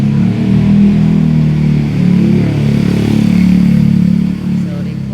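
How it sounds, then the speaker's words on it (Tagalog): A motorcycle rumbles by on a road beside a home kitchen setting, a loud, low engine drone that swells and holds near the listener for several seconds before easing slightly. "Sorry po, maingay ang motor."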